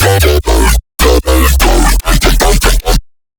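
Layered harmonic brostep growl synth patch built in Serum, heard as loud choppy bursts with gated rhythmic stops and a heavy low end, ending in a short silence.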